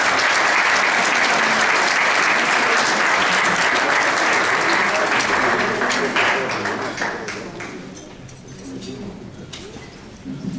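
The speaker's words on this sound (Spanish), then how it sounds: "les pido por favor recibir al contador Vicente Morales Villagrán con un aplauso cálido" Warm applause from an audience at a celebration welcoming an accountant, loud and dense at first, then thinning into scattered claps and fading toward the end.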